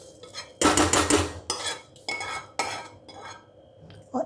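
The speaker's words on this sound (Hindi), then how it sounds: "अब इसको सीधे डायरेक्ट दूध में डाल देते हैं" Lightly fried rice is tipped from a kadai straight into milk in a pot for rice kheer, with loud metallic clatter and scraping of a spoon against the pans in several close bursts.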